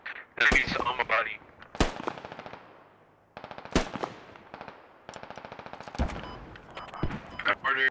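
Gunfire in Squad during an infantry combat overhaul playtest: sharp, close rifle shots in short bursts and single cracks, separated by brief quiet gaps, with faint voices underneath.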